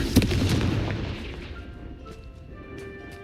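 The Confringo fire spell explodes in the Hogwarts Legacy video game with a sharp, booming blast up front that rolls off into a fading rumble and faint magical tones.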